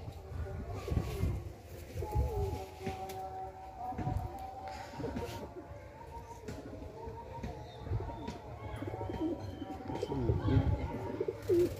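Several Madrasi pigeons coo in low, repeated throaty bursts close by, with a busy backdrop of other birds and background voices throughout.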